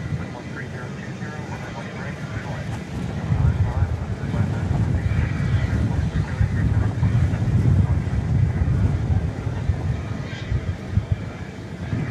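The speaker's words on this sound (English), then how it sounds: "Is a gusty wind." A gusty night wind blows at Dallas Fort Worth International Airport, buffeting the microphone in heavy low rumbles that swell after the first few seconds and ease near the end, with faint aircraft noise beneath.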